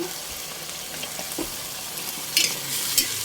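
String beans go into a hot pan for a Filipino sautéed kulitis and sitaw dish, a steady close frying sizzle with stirring and a few louder scraping bursts near the end, no voices over it.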